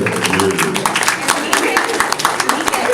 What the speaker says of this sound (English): Everyone clap for her.